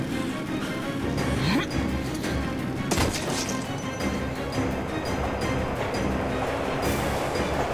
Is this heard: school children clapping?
no